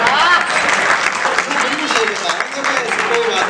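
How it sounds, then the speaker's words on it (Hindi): Audience at a Hindi kavi sammelan comedy poetry event clapping steadily and densely, a sustained wash of applause with a voice faintly mixed in. "आप ताली वाली बजाते रहना,"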